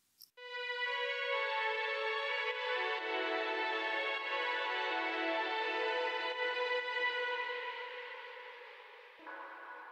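A lush, sustained Solina string-synth melody swells in slowly, holding long tones that gently shift in pitch before fading softly, with no voices.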